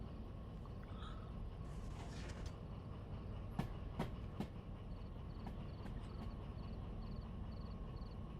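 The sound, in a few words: trains passing in Derail Valley VR video game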